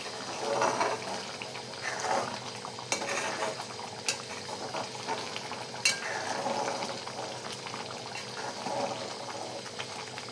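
A spoon stirs a cowpea curry with onion-tomato paste and chopped coriander in a pan, making a steady, close wet stirring sound broken by a few sharp clinks against the metal.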